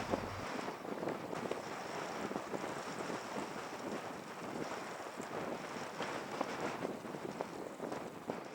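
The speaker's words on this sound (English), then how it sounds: "the wind is starting to come up" Wind rising across open desert ground beside a trout-fishing spot, a steady broadband rush buffeting the microphone with continuous gusty roar throughout.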